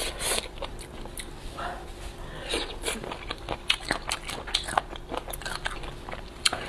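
Close, crisp biting and wet chewing of seasoned chicken feet with shredded bamboo shoots, with repeated crunches and small crackles in an irregular rhythm.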